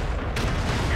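A Soviet SU-152 tank destroyer fires its gun in World of Tanks, a single heavy, booming cannon shot. It has a sharp crack followed by a rolling rumble, loud and close.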